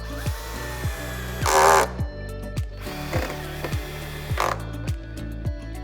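A power driver fitted with a PZ2 bit drives screws down into an eaves beam of a Korniche roof lantern, with short loud whirring bursts separated by pauses and regular sharp knocks and clicks, close by.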